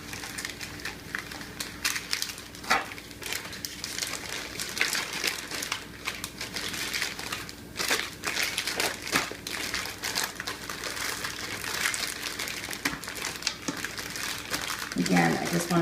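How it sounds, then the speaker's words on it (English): Crinkling and crushing plastic bag wrapped around meat for freezing, irregular rustles and crackles close by, continuing through most of the clip with a louder burst near the end. "I'm going to put them into a plastic bag"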